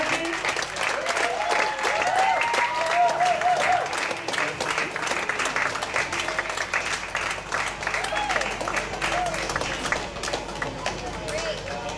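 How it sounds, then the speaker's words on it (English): Crowd applause and cheering at a Bali poetry slam as the third-place finisher is announced, sustained clapping with whoops and voices mixed in across the whole stretch. "please everybody, put a round of applause for Steffi!"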